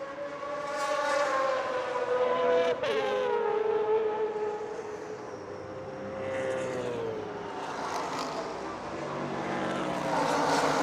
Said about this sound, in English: That is the 53 of Ken Epsman, relegating the 35 of Hines, that Corvette, to third position.